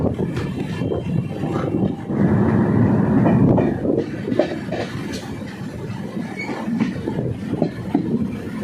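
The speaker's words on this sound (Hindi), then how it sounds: "और 40 में ट्रेन डिपार्ट हो चुकी है हरिश्चंद्रपुर रेलवे स्टेशन से" Kulik Express train pulling away from Harishchandrapur railway station, heard during the journey: a steady, loud rumble of wheels and carriages with rhythmic clatter and no talking.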